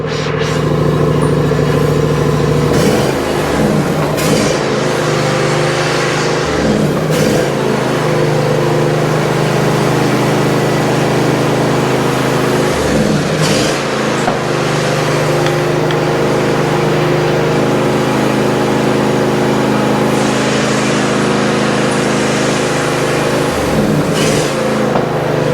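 A junkyard John Deere zero-turn mower engine runs loudly and steadily close by, its droning note dipping and surging in several repeated rev changes throughout.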